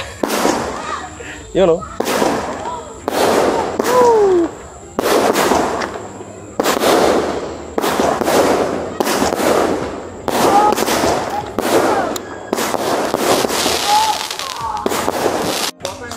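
New Year firecrackers explode close by in a steady series of loud sharp bangs, roughly one every second or two, with voices heard between them.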